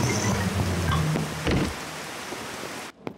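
Steady cartoon rain falls as a dense hiss, loud and close for a few seconds before thinning and stopping abruptly near the end, with no voices.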